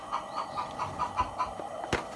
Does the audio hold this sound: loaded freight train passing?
no